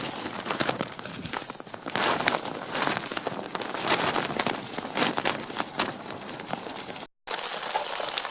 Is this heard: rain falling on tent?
yes